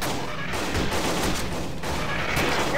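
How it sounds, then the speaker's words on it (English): Bombs exploding in a Megaman-themed A.V.A. shooter game, a dense continuous rumble of blasts and gunfire-like bursts holding loud throughout. "Oh, exploding bombs, exploding balls."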